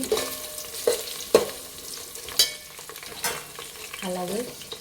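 Onions, green chillies and carrots frying in a pan for a bagara rice and mutton curry, a soft steady sizzle broken by several sharp scrapes and knocks of a spoon stirring against the pan.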